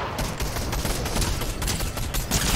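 Rapid bursts of gunfire fill a Fortnite sniper duel, a loud dense volley of shots crackling continuously without pause and no one speaking.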